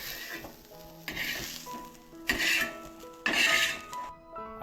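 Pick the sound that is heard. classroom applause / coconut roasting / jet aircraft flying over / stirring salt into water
coconut roasting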